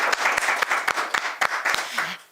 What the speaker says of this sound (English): let's start off with a round of applause for the 3 that are here right now